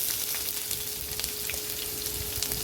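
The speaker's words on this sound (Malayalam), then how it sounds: "ഉഴുന്നും തുമരപ്പരിപ്പും കൂടി ചൂടെണ്ണയ്ക്കകത്തോട്ട് ഇട്ട്, ചൂടെണ്ണയ്ക്കകത്ത് ഞാൻ ഇച്ചിരി ഉലുവ ഇട്ടിട്ടുണ്ട്" Urad dal, chana dal and fenugreek seeds fry in hot oil, giving a steady crackling sizzle with scattered small pops, close and fairly quiet.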